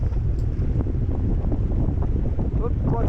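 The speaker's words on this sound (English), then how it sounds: "the wind was even stronger than it was when we got there" Strong wind buffets the microphone in a constant loud roar at a boat launch in bad weather, with faint voices and water sounds partly buried beneath it.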